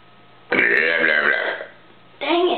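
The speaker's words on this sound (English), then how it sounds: "That was a good burp." A brother lets out a long, loud, throaty burp lasting about a second, then a second burp starts up close after a short pause.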